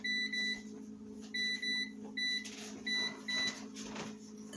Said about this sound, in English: now I got my air fryer here